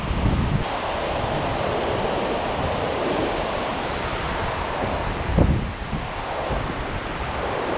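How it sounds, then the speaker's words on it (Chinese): Strong rushing water surges through a long-dry floodgate as the tide rises, a steady, loud broadband roar with a brief swell in force partway through and no voices. "水要上来了，上面那边水下来了，它两个冲过来了，那水流非常强"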